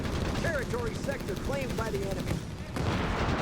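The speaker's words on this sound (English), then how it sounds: "letting loose there with the 30mm gun" Rapid 30mm cannon fire in a Company of Heroes 3 battle, dense crackling bursts of gunfire mixed with other battlefield noise and a narrating voice.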